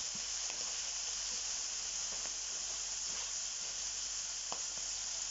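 Oil sizzles in a pan with stuffed courgette, a steady soft hiss with occasional small pops and crackles, faint and close, with no talking.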